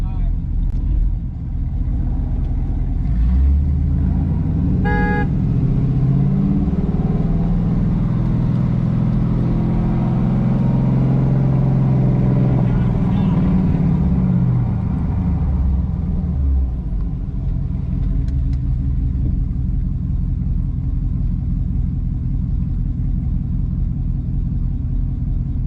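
A Chevrolet Camaro engine revs in first gear, its deep rumble rising and falling in a long sweep before settling back to a steady idle. It is loud and close, with low voices underneath.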